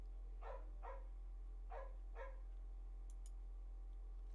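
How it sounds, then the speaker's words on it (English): Dogs barking outside a house, two pairs of muffled barks heard at a distance through walls over a steady low hum, with no talking. "There are loud dogs barking outside my house right now."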